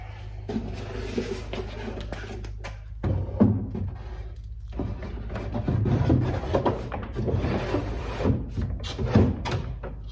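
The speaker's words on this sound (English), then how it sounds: "putting the drawer back in and seeing how it sits in this opening and it works" A wooden dresser drawer slid back into its opening, with rubbing and scraping wood-on-wood as it is pushed in, a sharper knock partway through, then continued sliding friction up close.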